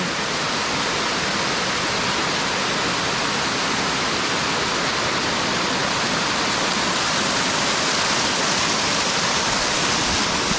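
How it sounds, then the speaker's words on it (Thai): Steady, roaring rush of falling water from a waterfall near Bang Wad Dam in Kathu, Phuket, loud and unbroken throughout, with a dense hiss and no voices. "นี่น้ำตกนะครับ"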